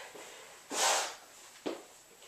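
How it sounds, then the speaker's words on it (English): A person blowing their nose during a bodyweight workout, two short nasal bursts close to the mic, the first longer and louder, the second brief and sharp. "Had to blow my nose."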